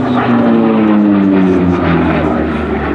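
A propeller aircraft passes at the Flying Legends air show at Duxford, a loud droning engine roar with a falling pitch as it goes by, filling the sound throughout.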